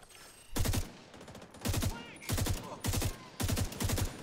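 Bursts of video game gunfire in four evenly spaced volleys, each a rapid run of loud, close shots separated by short quiet gaps, with brief speech-like sounds faintly in between.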